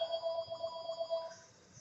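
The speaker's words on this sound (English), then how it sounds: "And why is my phone ringing?" A phone rings nearby with a soft, repeating electronic ringtone, steady pulsing tones at moderate volume, with no voices over it.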